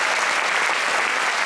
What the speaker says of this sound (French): j'aimerais qu'on lui donne une belle main d'applaudissement